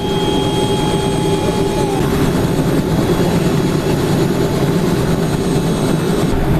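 A helicopter prepares to lift off from Ladasar village with its rotor blades spinning at full speed, a loud, dense, continuous roar and whine close by without letup.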